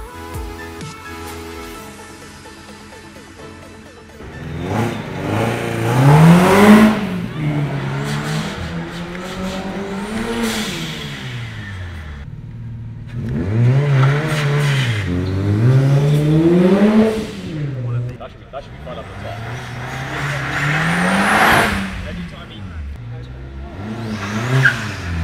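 A loud Subaru Legacy rally car at a retro car gathering accelerates up a hill. The engine roars repeatedly as it revs and shifts through gears, with rising and falling whines and harsh exhaust rasps, growing close and very loud.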